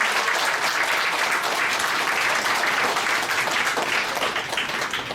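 Audience applause breaks out after a lecture on unification in a hall, a dense, steady clapping from a sizable crowd that holds for several seconds at fairly close range.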